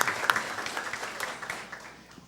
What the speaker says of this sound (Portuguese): Uma salva de palmas para os vereadores todos.